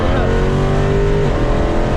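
A car fitted with a custom Comp cam and headers revs high and loud near 6,800 rpm, a sustained harmonic engine roar with a pitch shift around the shift point, steady throughout.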